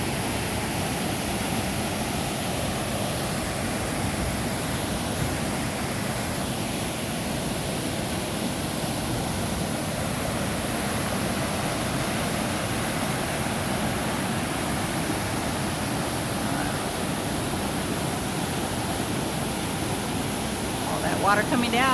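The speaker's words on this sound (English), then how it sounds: "Water coming down. Snow melt." Snowmelt water rushes down a channel in a Colorado state park, a steady, full roar of flowing water that stays constant throughout, with no voices.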